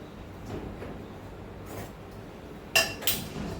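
A nonstick kadhai pan is handled in a home kitchen, giving two short metallic knocks near the end after a stretch of quiet room hum.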